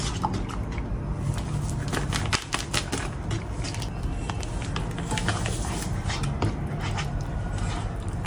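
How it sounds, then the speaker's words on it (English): Flour being stirred into cold water in a bowl, a busy wet mixing with soft clicks, taps and sloshing strokes that keep going throughout, close up and steady. "you're supposed to mix the flour in cold water first. So that's what we're doing."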